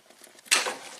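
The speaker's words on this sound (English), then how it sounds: "I'm going to slip my cutters right in here and snip off this hose" A single close, sharp snip as cutters bite through a vacuum hose under the hood of a 2003 Chevrolet Malibu V6, preceded by faint handling noise.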